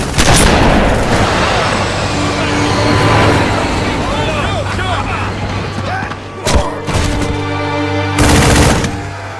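Gunfire in a Halo Wars video game cutscene: dense, loud automatic fire and booming blasts fill the scene, with shouting voices mixed in and sharp bursts near the end.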